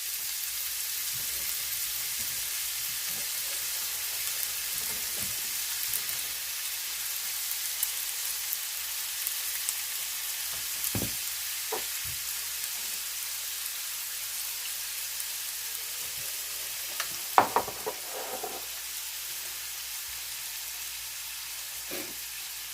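Bacon cheeseburger patties sizzle on a George Foreman grill, a steady close hiss that runs unbroken throughout with a few faint clicks and knocks, and no voices.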